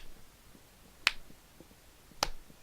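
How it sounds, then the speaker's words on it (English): Two sharp, isolated claps sound about a second apart in a quiet room, crisp and close, making a slow sarcastic clap. "Slow clap."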